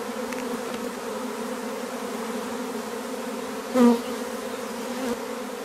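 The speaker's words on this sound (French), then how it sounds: "Ça représente un paquet d'abeilles." A steady, dense buzzing of many honeybees fills the air, a continuous drone of a hive swarming, with one bee passing close and loud midway.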